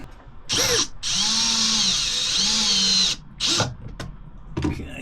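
A power drill drives screws to fix a water pump unit in place, heard up close in several bursts: a short whir, a long steady whine that rises in pitch, then a brief final run.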